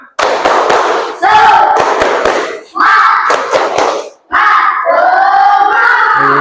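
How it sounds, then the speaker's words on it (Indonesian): Students in an Indonesian classroom clap for a student group in rhythmic bursts, loud and close, with short pauses between rounds and voices mixed in. "Kasih tepuk tangan untuk kelompok Utsman. Silakan tepuk tangan."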